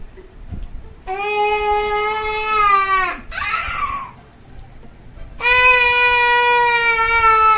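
A young child wails loudly in long, drawn-out bursts, pausing briefly for a sobbing breath before crying again.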